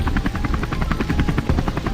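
A helicopter's rotor thumps in a rapid, steady rhythm over a loud engine whine, very close and dominant throughout.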